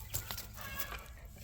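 Chickens cluck faintly on a farm in a short, quiet burst of a few soft calls over low background noise.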